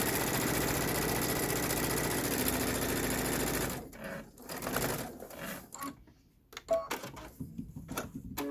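A sewing machine stitches fabric strips onto a finished embroidery for a pillow top, running in one long steady whir before breaking into short stop-start bursts with pauses between.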